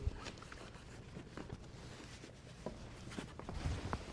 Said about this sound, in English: you can use a knife, slide along the box, cut through the core of the mushroom.